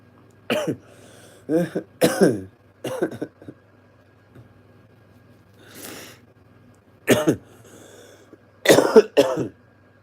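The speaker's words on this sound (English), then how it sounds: "It's good that I still cough it up." A person coughs repeatedly in short clustered bursts, close and fairly loud, with a throat-clearing rasp and quiet pauses between fits.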